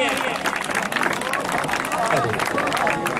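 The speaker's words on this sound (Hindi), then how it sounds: "भरपूर तालियां जी" Dense clapping from a crowd at a college sports festival prize-giving, continuous and fairly loud, with voices in the background.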